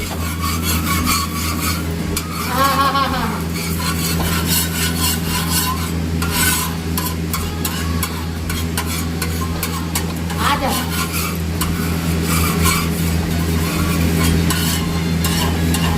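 Rolled roti roasting in oil on a hot pan, with a steady sizzle and rasping, scraping strokes running throughout at an even level, and a faint voice now and then in the background.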